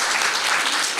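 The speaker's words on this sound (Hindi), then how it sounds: "ताली तो बजाओ" An audience at a live evening class gives a brief burst of dense, steady applause, heard alone and fairly loud for about a second.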